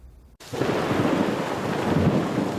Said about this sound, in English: Our cameras caught this lightning strike in Point Pleasant Beach last July, which ended up hitting someone on the beach